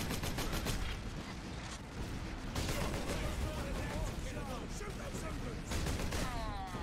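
Bolter guns fire in rapid, heavy bursts in the video game Space Marine, a dense, loud barrage of shots and explosions with voices talking over it.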